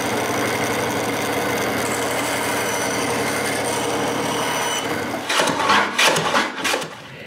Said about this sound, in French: je fais toutes les coupes avec le scie à ruban seulement.